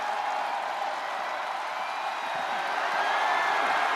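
The arena crowd in the WWE 2K25 wrestling video game gives off a broad, steady roar of cheering and applause during a Roman Reigns versus Brock Lesnar match.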